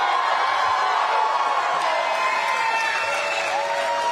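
A political rally crowd in Waukesha, Wisconsin, cheers and whoops steadily, a dense wall of massed voices and applause that holds at full level throughout.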